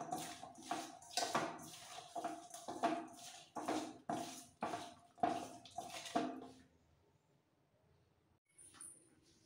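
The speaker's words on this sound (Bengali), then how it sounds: "এবার হাত দিয়ে মেখে নেব" Wet, squelching pats of bare hands mixing morola fish with lemon juice and pepper, a steady rhythm of soft close slaps for about six seconds before stopping, with a faint clink after.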